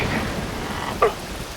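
Steady rain falls in Metal Gear Rising: Revengeance as a continuous wash of hiss, with a brief brighter splash or swish standing out near the middle and no talk over it.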